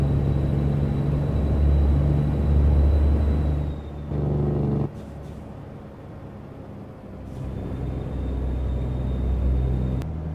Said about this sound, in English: I love how this is sounding with its straight pipe exhausts